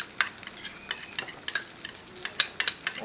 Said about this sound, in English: let's mix our sauce